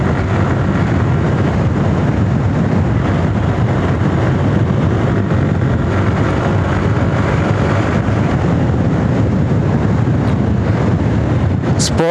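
A sports motorbike ridden in third and fourth gear on a road from Tirumala toward Chittoor, its engine drone buried under steady, loud wind rush across the microphone for the whole stretch.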